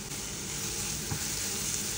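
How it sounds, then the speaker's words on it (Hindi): Carrots sizzle in a hot pan with two teaspoons of sugar as they caramelize for a kabuli chana pulao. A steady, close, even frying hiss fills the whole clip with no talking. "अब ज़रा इनको भी हम थोड़ा सा फ्राई सी कर लेंगे गाजरों को।"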